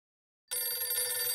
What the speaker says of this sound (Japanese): 一本の電話が入った。